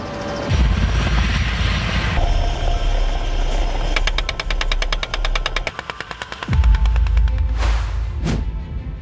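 An Mi-8AMTSHV military transport helicopter's engine and rotor drone close by with a heavy rumble, rhythmic blade chopping appearing midway, and a sharp whining whoosh near the end.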